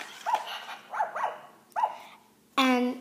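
A battery-operated toy puppy doll gives a few short electronic barks: two single yaps, a quick double yap and a final longer buzzy bark, fairly close, with quiet gaps between them.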